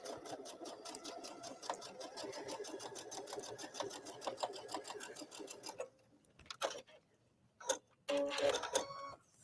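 A sewing machine stitches a zipper into a garment, buzzing in a fast, steady run of needle strokes for several seconds, then stopping and starting in short bursts, close and fairly quiet.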